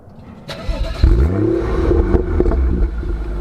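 Car engine revving hard on acceleration, a loud close roar that rises in pitch over a second and holds at high revs.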